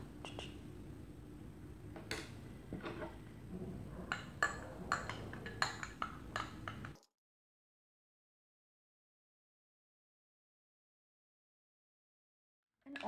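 Scoop of Olena plant-based collagen powder being stirred in a glass, a run of light clinks and scraping taps for about seven seconds, close and fairly quiet, then sudden silence.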